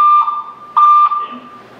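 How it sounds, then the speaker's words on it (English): A building fire alarm sounding during a system test: steady high-pitched electronic beeps in two loud bursts with a short gap between them, heard clearly with no talking. "we are conducting a test of the building's fire alarm system"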